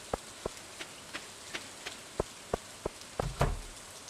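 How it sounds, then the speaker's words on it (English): Rain in the Stardew Valley video game comes through as a steady hiss dotted with sharp, evenly spaced drip ticks, and a slightly louder patter swells near the end. "Apparently this rain is supposed to be completely harmless, just an unusual phenomenon of nature."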